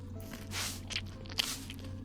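Wet, crunchy chewing and biting from a female character in a horror video game, a few sloppy bites with one sharper crunch, close and fairly clear over a low steady background hum.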